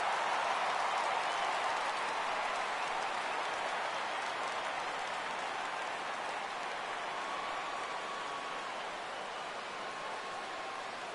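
Baseball crowd in MLB The Show 17 rising as the count reaches 3-2 during a Phillies at Mets game, a steady, dense roar of cheering and applause that swells slightly then holds, with no voices standing out.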